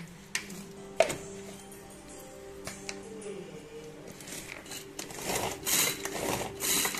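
Sliced boiled eggs are chopped in a manual food chopper, giving a close, steady rubbing and rasping churn with a few sharp clicks, rising in loudness toward the end.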